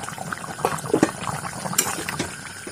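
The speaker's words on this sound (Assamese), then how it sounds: "খুবেই ধুনীয়াকৈ আমাৰ মাংসখিনি উতলি আছে" Local chicken curry simmers in a covered pot, giving soft irregular bubbling and burbling pops with a faint metallic tick, close and fairly quiet.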